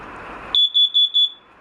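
Carbon monoxide alarm inside a 2018 Rockwood Minilite 2104s camper, with the gas heater running, sounds four loud, close, evenly spaced high-pitched beeps after a short stretch of low background rumble.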